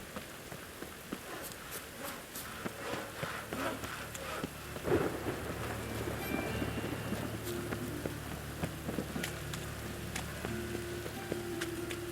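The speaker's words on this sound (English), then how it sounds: "Rain." Steady rain pours down in The Witcher 3: Wild Hunt with a low rumble of thunder rolling underneath, a constant hissing wash with a brief sharper swell partway through.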